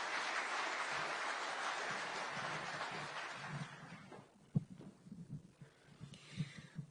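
Audience applause at a call centre launch event in Kenya, a dense broadband wash of clapping that fills the first few seconds, then thins out into scattered claps and fades away.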